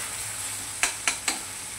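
Tomato puree fries in hot oil, giving a steady close sizzle broken by three quick stirring scrapes in a row.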